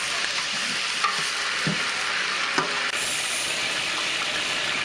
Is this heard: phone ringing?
no